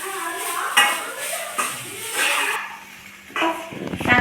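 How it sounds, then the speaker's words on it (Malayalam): Onion rice with salt is stirred in a pot, with a spoon scraping and clattering against the metal in irregular bursts, close by, over a faint sizzle. "പാകത്തിന് കുറച്ച് ഉപ്പ് കൂടെ ഇട്ട് കൊടുത്തിട്ട് നല്ലോണം ഇളക്കി അതിൻ്റെ മിക്സ് ആക്കുക."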